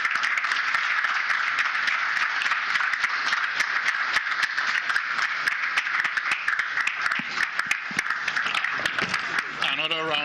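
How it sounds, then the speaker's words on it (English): An audience claps for the Executive Governor of Kaduna State at a roundtable and signing event, sustained dense applause with scattered rattling claps, fairly loud and continuous. "Another round of applause for His Excellency, the Executive Governor of Kaduna State, please"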